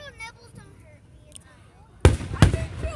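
Fourth of July fireworks burst in two loud, sharp booms about half a second apart, followed by crackling, after a stretch of quiet chatter from people nearby.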